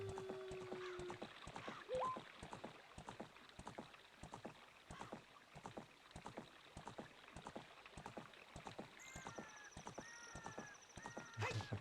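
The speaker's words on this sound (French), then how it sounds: "je suis obligé de rester sur Epona, en fait. J'ai pas le temps de descendre de cheval" Epona the horse galloping in the video game The Legend of Zelda: Ocarina of Time, a steady rhythmic clip-clop of hooves throughout, with occasional game tones and chimes over faint background ambience.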